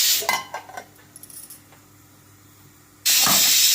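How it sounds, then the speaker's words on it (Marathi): Pressure cooker whistling on the stove while sambar cooks: a loud, sustained hissing whistle bursts in near the end, after faint clinks of utensils and quiet kitchen noise. "दुसरी शिटी झाली सांबारची"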